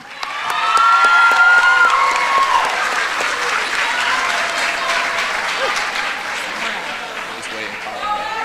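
Graduation audience applauds the ILCS class of 2014, a loud, sustained crowd clapping with some cheering and chatter mixed in, swelling early and holding steady to the end.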